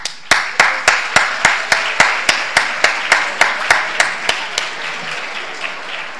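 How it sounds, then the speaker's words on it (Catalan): A single pair of hands claps in a slow, steady rhythm, about fifteen sharp claps that gradually fade. "el primer aplaudiment és per vosaltres."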